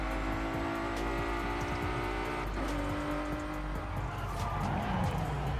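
A Ford GT in Forza Horizon 5 drives fast around a curve at about 160 mph, its engine holding a loud, steady, high-revving drone with pitch shifts and a hint of tire squeal, with no voices.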